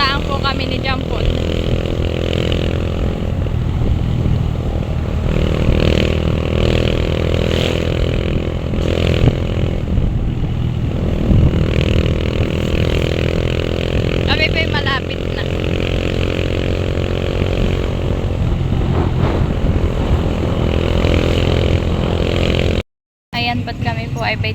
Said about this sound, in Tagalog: Nagmotor lang po kami ni Jampon.